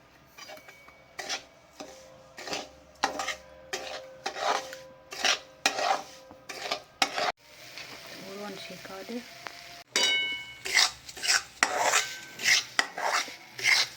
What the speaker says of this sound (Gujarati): શેકાવા લાગે છે કકરો લોટ બાજરીનો।